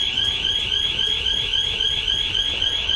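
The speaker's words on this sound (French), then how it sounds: "Pourquoi elle sonne cette alarme là?" A home alarm ringing in the Dark Deception horror game, a loud continuous high-pitched electronic tone pulsing steadily without break, nobody speaking over it.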